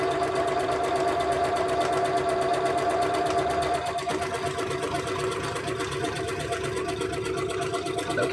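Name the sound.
sewing machine stitching a square buttonhole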